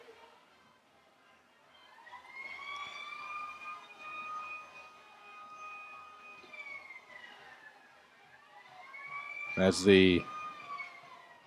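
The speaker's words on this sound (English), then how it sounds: "sirens going off in Taylorville for the touchdown and the extra point" Distant town sirens in Taylorville wail in long rising and falling tones after a football touchdown, with someone speaking briefly and a short burst of noise near the end.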